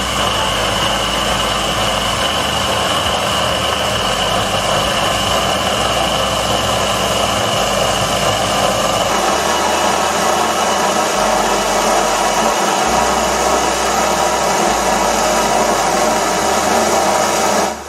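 A metal lathe turns a steel shaft with a DCMT insert against a live centre, cutting down a shoulder; a loud, steady mechanical drone with a shifting low hum runs continuously, no voices.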